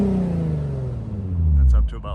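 A 2007 Infiniti G35 Coupe with a Motordyne exhaust drones close and loud as the revs fall from about 5,000 RPM, then a brief burst of speech cuts in at the end.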